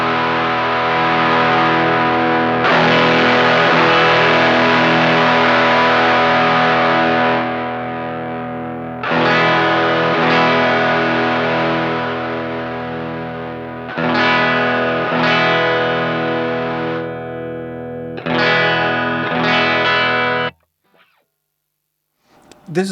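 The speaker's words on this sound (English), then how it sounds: "the rat is such a fuzzy, fizzed out distortion sound" Electric guitar played through a Guyatone RAT-style LM308 distortion pedal with a clean blend, giving fuzzy, fizzy chords on the bridge pickup that ring out in several sustained strums and decay to silence at the end.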